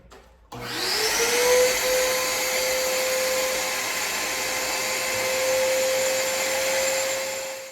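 Vacuum cleaner switching on and running steadily with a rising whine as it cleans old carpet from a Nissan 240SX, loud and close with no talking.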